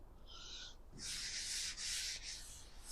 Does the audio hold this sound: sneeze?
no